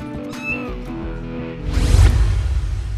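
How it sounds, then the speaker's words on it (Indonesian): An angry domestic cat gives a short meow and then a low, rough growl that swells and holds steady through the second half, close and fairly loud with no talking. "Yang pertama, kucing menggeram padamu."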